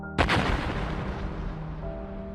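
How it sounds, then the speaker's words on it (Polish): A single distant explosion in the video game Gothic booms out with a sudden thump and a long rumbling decay, while soft sustained music tones continue underneath. "Usłyszałem z oddali wybuch."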